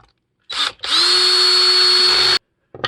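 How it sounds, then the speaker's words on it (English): A cordless power drill with a nut driver bit runs nuts home on a DIY ice-fishing power box build, giving a brief whir, then one sustained, loud, steady motor whine close by, ending abruptly. "We're gonna run them home with the drill"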